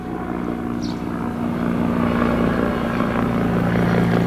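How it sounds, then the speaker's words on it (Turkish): Helicopters passing near a military area, a steady broad rotor-and-engine drone that holds loud and continuous throughout, with a low hum underneath and no speech. "Helikopterler de geçiyor."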